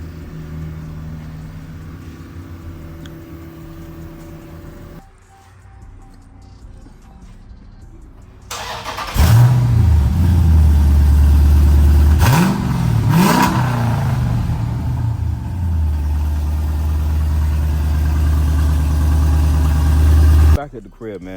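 A Dodge SRT 392 with newly installed Valvetronic mufflers cranks to life after a quiet stretch, snaps through two sharp revs, then settles into a loud, deep, rumbling idle close to the microphone.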